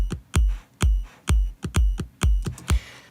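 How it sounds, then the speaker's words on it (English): An offbeat kick drum from an electronic music drop thumps in a steady, punchy pattern, about seven deep hits with decaying tails, loud and upfront. "So this offbeat kick sounds like this."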